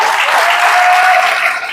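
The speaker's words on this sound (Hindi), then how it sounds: "ये इतनी तालियां वैसे काफी नहीं है," Loud, steady audience applause at an RCM business gathering in Khurja, a continuous close wash of clapping hands that tapers slightly at the end.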